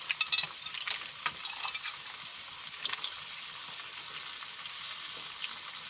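Assorted meat frying in a paella pan sizzles and crackles continuously, with sharper pops and spits early on that settle into a steady, fairly quiet hiss.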